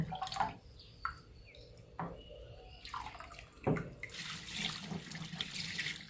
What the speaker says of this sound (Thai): เราจะใช้มือคนให้เปลือกถั่วลอยอยู่ด้านบนนะคะ